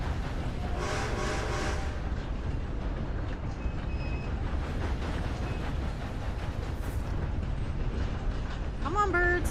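A moving train in the Red Dead Online video game gives a steady low rumble and rattle of rolling cars, with a brief voice early on and a few faint chimes and squeaks near the end.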